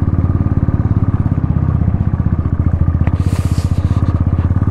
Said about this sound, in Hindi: ये देख लो पहले गियर में हमारी बाइक चल रही है